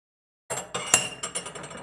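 A spoon or spatula stirring homemade soy milk as it curdles in a pot, heard as a few quick, close clinks and taps against the rim in a short burst with no talking.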